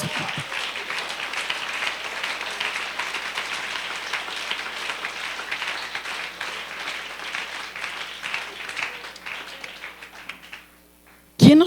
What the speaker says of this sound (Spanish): Si ese aplauso es para Dios, te lo paso.